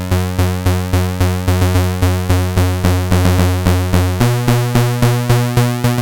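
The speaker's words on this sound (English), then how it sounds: "I'm going to use envelope 2 right now to control the pulse width modulation" An Analogue Solutions Leipzig-S synthesizer plays a single-oscillator square wave whose pulse width is swept by envelope 2, giving a rapid, even sequence of punchy, timbre-shifting plucked notes that drops lower in pitch partway through, loud and alone.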